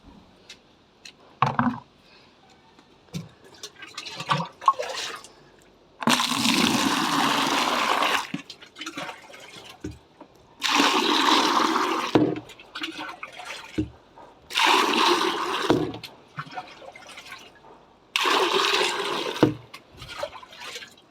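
Water poured by hand onto dry, sun-parched garden plants in the evening, in four separate gushing bursts of several seconds each, separated by quieter pauses with faint handling noises, close and fairly loud.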